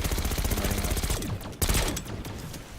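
Rapid automatic gunfire from a Call of Duty: Black Ops 6 match, loud, dense and continuous for a few seconds before briefly thinning, then resuming as repeated close bursts.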